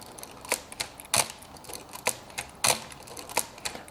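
A Canon F-1N film camera being wound on by repeated shutter presses gives a series of sharp mechanical clicks and clacks, close and fairly crisp, spaced irregularly about half a second apart.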